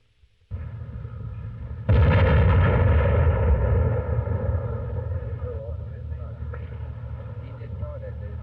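A bomb handler detonates explosives while onlookers watch from a safe distance in 1972. The sharp, heavy blast hits, then a long rumbling roar trails off under steady background noise.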